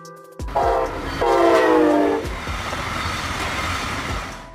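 A commuter train sounds two loud horn blasts, one right after the other, over steady rail rumble and faint clickety-clack as it runs.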